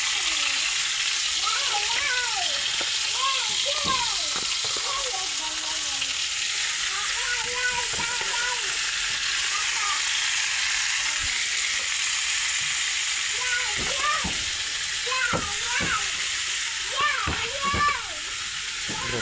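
Adobo sizzling and frying in a hot pan, a steady loud hiss with occasional stirring scrapes, while people talk over it on and off.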